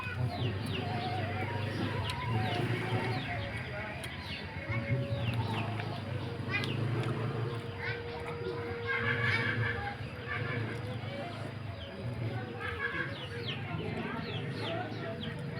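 Chickens cluck steadily in a home chicken yard, a dense layer of near and distant fowl calls with occasional rooster-like cries and a horse-like whinny over constant background noise.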